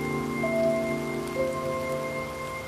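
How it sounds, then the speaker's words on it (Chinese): Rain falls outside as a soft, steady hiss, heard beneath a sustained tonal musical bed with no talking. "外面下雨了"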